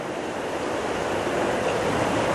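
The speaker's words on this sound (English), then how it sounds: "You should be able to hear the water," The River Don, more stream than river, flows steadily as a broadband rushing wash that reverberates under a bridge at night. The sound is continuous and fairly loud, with no voices.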